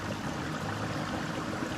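Brief stretch of steady, gentle rushing from a creek along a wooded Arkansas trail, an even, unbroken murmur of flowing water with nobody talking.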